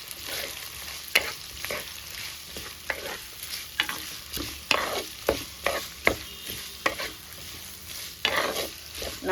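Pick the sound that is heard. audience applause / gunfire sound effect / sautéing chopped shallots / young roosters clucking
sautéing chopped shallots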